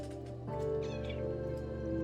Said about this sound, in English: Kitty cat wants to come sit.